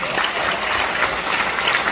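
An audience at a Korean church conference in Orange County, California gives a burst of thick, dense applause, loud and unbroken for the whole moment.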